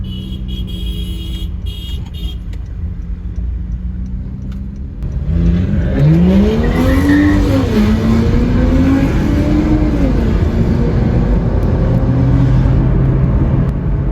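A car engine idles low on a cold start, then roars loudly into sustained revving with rising and falling pitch, close and continuous.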